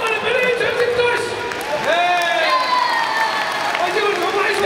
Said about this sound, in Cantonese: 我哋俾啲掌聲